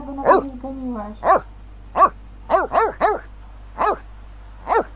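Dog in The Sims 3 video game barking in a run of short, sharp yips and woofs, about eight spaced barks over a low steady hum, with a player talking in between.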